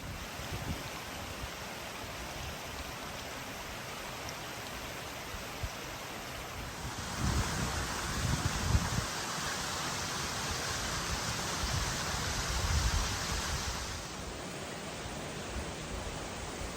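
A waterfall in the Peak District at a wild camping spot, a steady broadband rush of falling water heard close and continuous, swelling slightly in the middle, with no voices.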